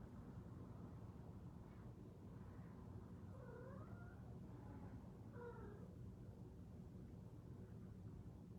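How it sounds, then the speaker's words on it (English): A cat meows a few times, faint and somewhat distant, beneath a steady low background rumble. "I don't know if you guys can hear Tucker meowing"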